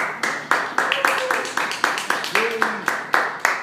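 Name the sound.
audience clapping and cheering for a jazz singer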